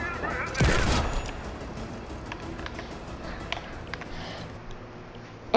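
Sloan's rifle fires in the video game Fortnite, a sharp, loud close shot followed by quieter scattered pops and clicks, with game ambience underneath.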